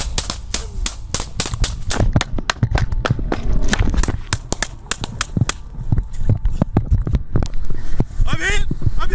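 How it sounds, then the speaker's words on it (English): Rapid, irregular bursts of sharp, loud gunfire, many shots in quick succession aimed at a state trooper, mixed with shouting voices and commotion throughout. "The suspect ignored repeated commands, then swung around and started shooting at the trooper"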